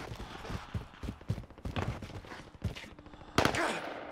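Bursts of rapid gunfire in a multiplayer shooter video game, sharp repeated cracks scattered through the clip with a louder volley near the end, mixed with footsteps and game noise.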